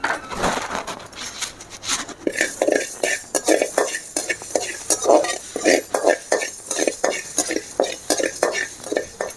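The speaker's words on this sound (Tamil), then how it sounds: "சட்டி சூடாயிட்டு இதில் நம்ம வெந்தயத்தை கொட்டி வறுத்துக்கலாம்." Fenugreek seeds are dry-roasted in a hot pan, with a rhythmic series of scraping, stirring strokes from a spoon against the pan repeating steadily at close range, no talk.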